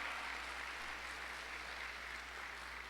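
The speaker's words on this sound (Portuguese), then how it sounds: "Salva de palmas para Jesus." A church congregation applauds in a faint, steady wash of clapping that continues throughout, with no voices over it.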